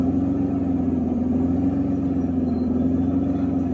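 A 1992 Mercedes 600SEL V12 with a leaking mass airflow sensor boot and no oxygen sensors idles steadily, a smooth, close, unbroken engine drone with no voices.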